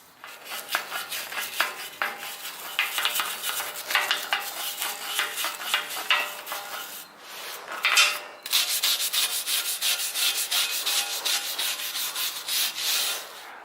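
Sandpaper scrubbing rust off a wrought iron handrail, a continuous close, brisk rasping rub with quick back-and-forth strokes, one brief pause partway through, no voices.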